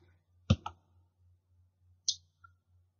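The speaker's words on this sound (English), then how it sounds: "And I click OK." A computer mouse clicks once as the OK button is pressed while setting up a VPN router configuration, a sharp double click near the half-second mark and a second softer click later, close and clear over a low steady hum.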